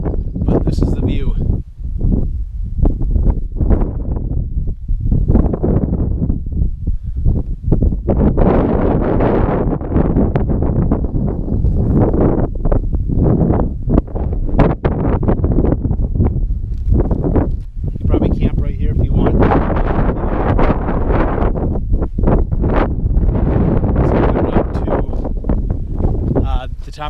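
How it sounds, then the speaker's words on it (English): Strong gusty wind on top of Little Hump Mountain roars and buffets the microphone in loud, uneven surges throughout, with a person talking under it. "It's kind of windy, so I don't know if you can hear me that well"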